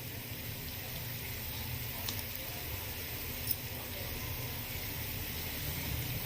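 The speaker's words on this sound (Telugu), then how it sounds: "ఇవి ఇలా ఫ్రై అయ్యేటప్పుడు ఒక 1/2 టేబుల్ స్పూన్ పసుపుని యాడ్ చేసుకొని ఫ్రై చేసుకుంటున్నాను." Onions frying in a pan with turmeric, giving a faint, steady, soft sizzling hiss with small crackles throughout.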